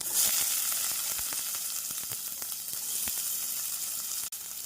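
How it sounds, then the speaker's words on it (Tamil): Steady sizzling of chopped onion frying in hot oil, with occasional soft crackles and a brief stir near the end. "பொடியாக நறுக்கிய ஒரு பெரிய வெங்காயத்தை சேர்த்து விடலாம்"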